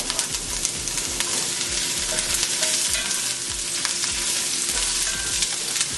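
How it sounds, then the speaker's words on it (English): Onions and potatoes sauteing in a heated pan on the stove, a loud, continuous crackling sizzle up close with faint stirring, no one talking. "I'm just gonna add these onions to it and sauteed potatoes"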